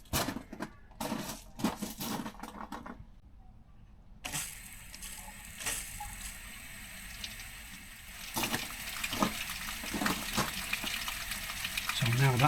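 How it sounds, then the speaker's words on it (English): Steady broadband rush of water from a tap flowing through the coolant system of a Mercedes 410D engine, with a few clanks and brief voices at the start, continuing for several seconds. "let's go and turn the tap on and you'll hear the water coming through."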